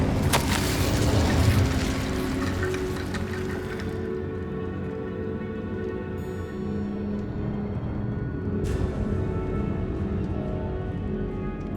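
An Incendio fire spell is cast in Hogwarts Legacy: a loud, roaring whoosh of flame that surges for a few seconds and then fades into a low, rumbling tail.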